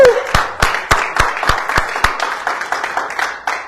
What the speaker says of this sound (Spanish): Fuerte el aplauso al Rey de Gloria.